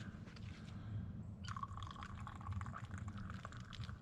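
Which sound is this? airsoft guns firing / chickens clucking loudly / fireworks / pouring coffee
pouring coffee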